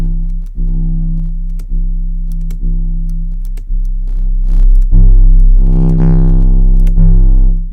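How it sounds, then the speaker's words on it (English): Deep 808 sine-wave bass notes in FL Studio, run through a fast distortion plugin, hit in a repeating pattern of loud, buzzy sustained tones, each note sharply retriggered and growing grittier toward the end. "one plugin I really like is a fast distortion"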